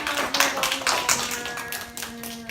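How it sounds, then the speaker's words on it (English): A classroom of students gives a short round of applause, scattered uneven claps close by with a sustained tone running underneath. "Round of applause."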